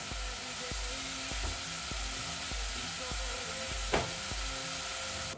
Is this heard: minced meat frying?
yes